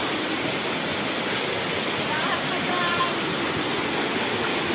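Lambingan waterfall on Sibuyan island roars as a dense, continuous broadband wash of falling water, loud and steady throughout.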